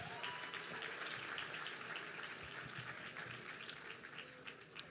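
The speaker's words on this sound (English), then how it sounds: "Please now, clap" Steady applause from a conference audience at a panel session, a dense, even wash of clapping that holds at moderate level throughout with no talk over it.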